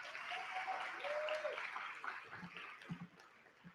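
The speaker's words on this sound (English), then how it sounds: "So a round of applause." Audience applause at a film festival awards ceremony, a broad wash of clapping that holds steady for several seconds then thins toward the end, with a few thumps and a faint tone near the start.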